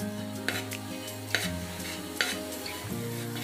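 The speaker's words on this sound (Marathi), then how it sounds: "आपण आता हा कांदा तव्यावरच एका बाजूला करून खोबरं भाजून घेणार आहोत" Grated dry coconut roasts on an oiled griddle beside onions, giving a soft continuous sizzle with a few sharp scrapes of a spatula spaced about a second apart, close and quiet with no talk.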